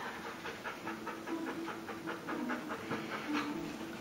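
A dog panting rapidly and steadily in quick rhythmic breaths, close and fairly quiet against a low background hum.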